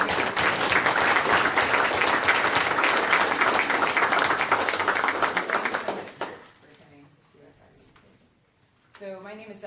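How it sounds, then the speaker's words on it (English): An audience in a room applauds loudly and steadily for about six seconds, then the clapping drops away abruptly to a quiet room, followed by a brief voice at the end. "can we just applaud that they have our"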